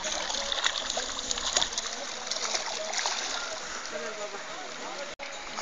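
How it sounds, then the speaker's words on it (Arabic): Mineral spring water gushes and splashes out of the ground at an Armenian spring, a steady broadband rushing with bursts of spatter. It sounds close and loud and continues throughout. "شو بدأ المي يندفع"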